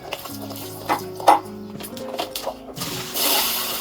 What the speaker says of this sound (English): I will rinse it off with cool water from the tap